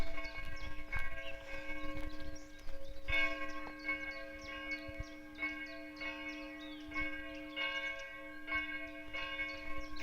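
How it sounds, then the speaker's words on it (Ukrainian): Church bells ring out from a neighbouring village at half past eight, calling people to nine o'clock service; sustained, overlapping metallic tones with repeated strikes, heard at a distance across open countryside with no talking. "Б'ють дзвони на схід до церкви на 9 годину."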